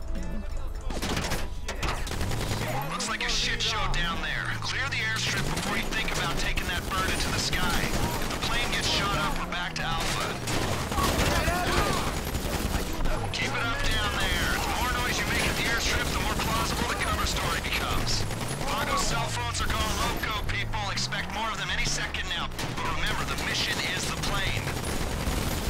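Gunfire in Grand Theft Auto V, bursts and volleys running steadily through a loud, busy game soundtrack with music and other effects layered throughout.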